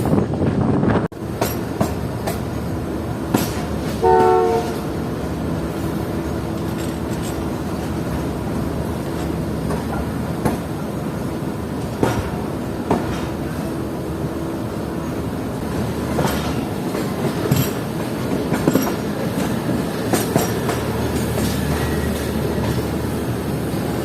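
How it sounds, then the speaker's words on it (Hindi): The 1 Up Khyber Mail Express, hauled by locomotive AGE 36029, enters Kotri Junction, giving a continuous loud rumble with rhythmic wheel clatter and occasional sharp clicks throughout. "कोटरी एंटर हो रही है हमारी 1 up Khyber mail express AG 36029 के साथ"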